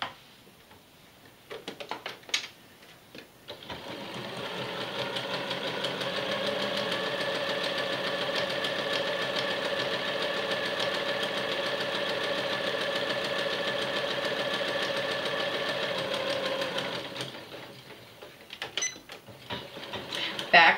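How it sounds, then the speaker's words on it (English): A sewing machine runs steadily for about thirteen seconds, stitching down the seam allowances of a pinked seam finish, its motor hum and rapid needle ticking clear and close, with brief quiet handling before and after. "down each seam allowance you're going to stitch halfway between the pinked cut edge and the seam"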